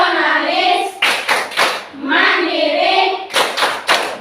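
A classroom group performs the rhythmic tepuk PPK chant, with loud chanted phrases alternating with quick bursts of unison hand clapping, close and energetic.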